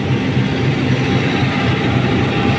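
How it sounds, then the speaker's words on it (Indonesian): The Pandalungan train from Jember bound for Jakarta Gambir rolls into Probolinggo station, a steady, close, low rumble of wheels and carriages with no voices. "Pandalungan sudah masuk stasiun Probolinggo."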